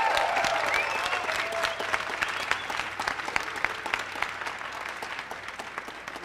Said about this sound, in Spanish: Quisiera que le dieran un aplauso a nuestro animador, nuestro quinto Geek Stream, Carlos Chavier.